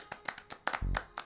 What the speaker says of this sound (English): Everybody clap for Matt.